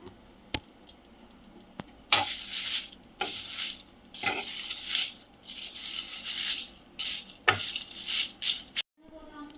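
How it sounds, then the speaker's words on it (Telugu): Curry leaves fry in hot oil in a pan for a curry leaf podi, giving a loud crackling sizzle in repeated bursts as they are stirred, with a few sharp metallic taps, close by. "చూడండి కరివేపాకు వేగింది ఇప్పుడు స్టవ్ ఆఫ్ చేసుకుందాం"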